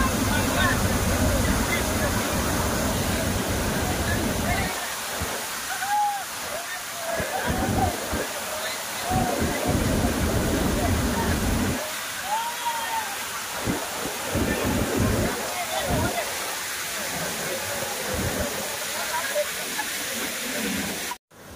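Constant roar of rushing water from Paleshwar Waterfall, loud and steady, with people talking faintly underneath at times.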